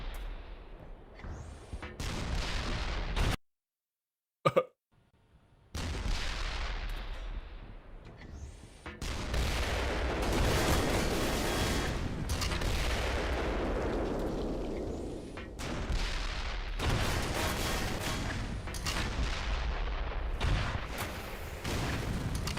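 Heavy gunfire and booming blasts in the video game Black Mesa, a dense, loud, continuous barrage broken by one brief silent gap, with no talking.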